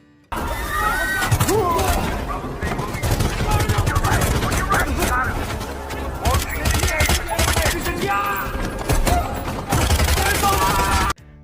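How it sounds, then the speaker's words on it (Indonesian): Film shootout gunfire between special forces and terrorists, dense rapid bursts of shots and automatic fire close and loud throughout, with brief gaps between volleys. "yang membuat baku tembak pun tak bisa dihindari"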